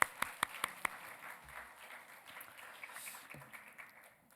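Church congregation at a Korean Sunday morning worship service gives a short round of clapping, a few sharp distinct claps at the start fading into a soft, sparse patter in a quiet room.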